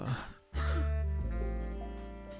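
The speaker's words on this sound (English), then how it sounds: "You coughed up blood." A character in The Dark Rites of Arkham video game coughs and clears their throat, a couple of short rough bursts heard close over a sustained low musical drone.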